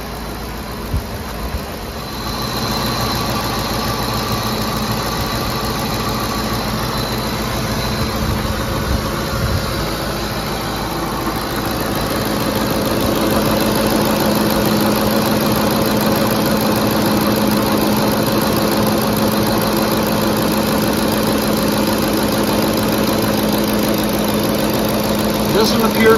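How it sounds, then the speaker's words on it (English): A Ford F-150 pickup's 5.4L Triton 3V V8 idles smoothly, a steady droning hum with a constant tonal whine that grows slightly louder partway through and holds evenly. "Started on choke, ran high RPMs, leveled down to idle. Smooth."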